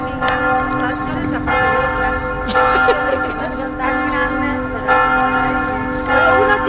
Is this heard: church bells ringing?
yes